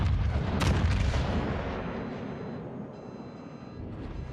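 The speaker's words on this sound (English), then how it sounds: "I meant to shoot all my guns there" The battleship Vermont fires its guns in a naval video game: a heavy, booming salvo opens loud and then rolls away into a fading rumble, with no talk over it.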